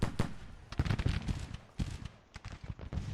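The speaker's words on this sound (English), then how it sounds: "Cannons open up from behind." Cannon fire in the Civil War strategy game Grand Tactician, set in 1863, booms in a series of irregular, loud blasts spread across the moment, some overlapping in quick succession, with a rumbling battle backdrop.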